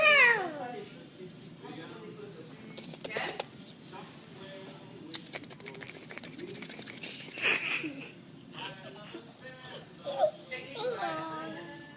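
A young child imitates a cat's meow, drawn-out high voiced meows at the start and again later, mixed with an adult's speech and the child's babbling in a quiet room.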